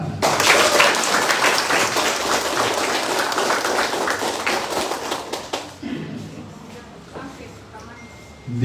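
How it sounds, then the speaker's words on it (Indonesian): A crowd at a political party school opening in Merauke claps in sustained, dense applause for several seconds, then tapers off as a voice carries on over the room. "Tepuk tangan mana?"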